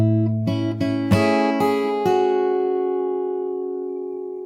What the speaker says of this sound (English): So the very first part sounds like this.